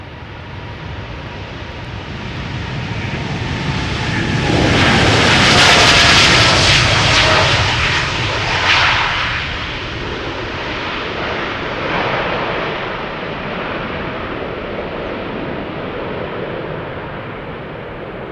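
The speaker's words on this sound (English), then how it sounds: "This is KLM flight 605 to San Francisco, 787-10 Dreamliner, PH BKL, 2 years old." KLM's two-year-old Boeing 787-10 Dreamliner PH-BKL takes off from Schiphol's Polderbaan, a loud jet roar swelling to a peak and then slowly fading as it climbs away, with no speech.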